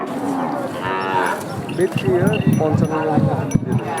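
A heifer moos loudly and repeatedly nearby at a cattle market, amid a busy crowd of people talking and the general bustle of the livestock gathering.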